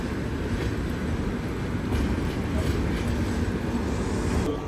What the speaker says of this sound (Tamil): ஏற்காடு எக்ஸ்பிரஸ் அரைவ் ஆகிட்டு இருக்குங்க.